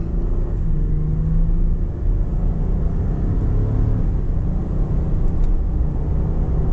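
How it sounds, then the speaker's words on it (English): A 2026 Ford F-150 pickup pulls away from a standing start at partial throttle, its engine a loud, steady low rumble that holds and builds gradually over several seconds, heard from inside the cab with no talking. "we'll just do a bit of a standing start, not full throttle. I'll just give you an idea of how it gets up to speed."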